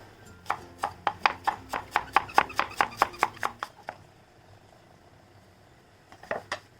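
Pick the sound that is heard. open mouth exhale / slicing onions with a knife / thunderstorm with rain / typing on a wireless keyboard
slicing onions with a knife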